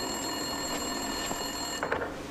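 Telephone ringing at an empty desk in the video game Max Payne 2, faint and steady beneath a constant hiss of game ambience.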